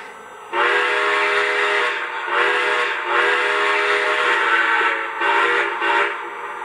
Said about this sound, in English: Yeah, I just love that whistle.